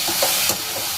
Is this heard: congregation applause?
no